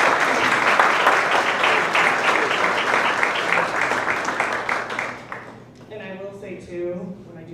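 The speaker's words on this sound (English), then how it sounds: "So if we could give them another round of applause." Sustained applause fills an athletic awards night hall, dense and loud, then thins out toward the end as a voice begins speaking.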